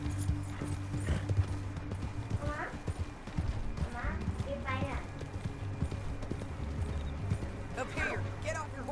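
Horse hooves clop in an uneven, steady rhythm in Red Dead Redemption 2 while voices speak over them, with a few snorts or whinny-like calls mixed in.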